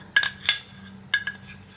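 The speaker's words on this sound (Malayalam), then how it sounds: "ഇനി നമ്മൾ അരച്ച് വെച്ചിരിക്കുന്ന വറുത്ത തേങ്ങ ചേർത്ത് കൊടുക്കാം. എന്നിട്ടൊന്ന് മിക്സ് ചെയ്തെടുക്കാം." A spoon stirring ground roasted coconut paste into a simmering Kerala small-onion curry, a few close metallic clinks and scrapes against the pan over a soft, quiet background.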